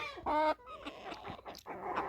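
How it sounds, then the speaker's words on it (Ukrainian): Young roosters, including a small black one, cluck and squawk nearby in a quick, uneven series of calls, one louder strained call standing out at the start. "Півники вже кукарікають"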